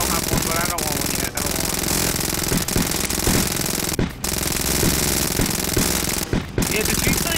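Automated turret gunfire in the zombie defence video game Another Zombie Defence rattles in a dense, loud, continuous stream, with repeated sharp bursts and brief gaps.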